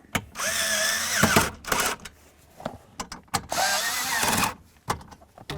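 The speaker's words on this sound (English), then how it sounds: "Let's start in both of those screws." A power drill drives two screws into a headlight switch on a 2006-2010 Dodge Ram, with two long whirring runs that each ramp up and stop, separated by short clicks and handling noises at close range.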